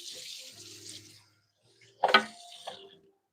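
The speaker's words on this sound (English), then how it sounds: "Let's rinse this off." Tap water runs briefly over cucumbers being rinsed at a kitchen sink, with a soft stream at first, then a short louder splash burst and a few trickles before quiet.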